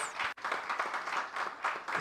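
Brief burst of audience applause at a Kenya diaspora homecoming convention, a dense wash of clapping with slight swells, fairly close and with no speech over it.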